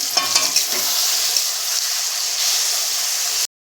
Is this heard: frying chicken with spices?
yes